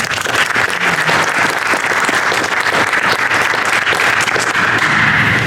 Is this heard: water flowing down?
no